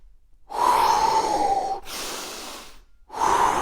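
Deep forceful breaths during a home core workout, two long loud exhales with an inhale between and another starting at the end, close and alone without talk.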